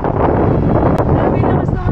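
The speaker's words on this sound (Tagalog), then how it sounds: "Grabe, lakas ng hangin." Strong gusting wind buffets the microphone outdoors beside a street, a steady roaring rumble that fills the whole clip; a brief tonal blip cuts through near the middle.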